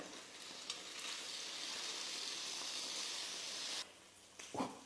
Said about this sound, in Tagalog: Iprito lang muna natin ito hanggang mag-brown na yung isang side na nasa ilalim.